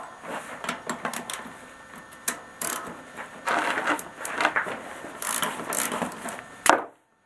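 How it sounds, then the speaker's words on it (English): A 3/4 inch ratchet unbolts a lawn mower wheel, giving close, loud bursts of rapid clicking that stop and start throughout, then cut off abruptly. "all it is a 3/4 inch wrench and a 3/4 inch ratchet"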